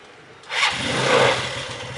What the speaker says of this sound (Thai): ผมจะกดสั่งสตาร์ทที่รีโมทนะครับกดสองครั้งนะครับ